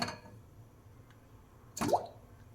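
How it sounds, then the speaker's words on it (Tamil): Water and chunks of palmyra sprout dropped into a pressure cooker: a faint start, then one close, wet plop and splash near the end against a quiet kitchen background. "பனங்கிழங்கு வேகிறதுக்கு கொஞ்சம் தண்ணி, பனங்கிழங்கையும் உள்ளே ஆட் பண்ணிக்கலாம்"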